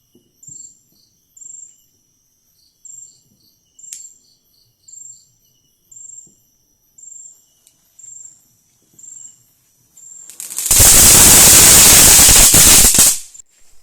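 A flower pot firecracker bursts into a loud, sustained hissing, crackling roar for about three seconds, after steady rhythmic insect chirping in a quiet night at a home Christmas celebration.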